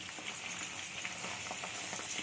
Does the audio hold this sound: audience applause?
no